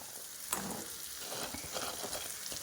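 Soya chunks get stirred into chilli paste frying in a pan, giving a soft, steady sizzle with light scraping of the spoon, quiet and close with no talk.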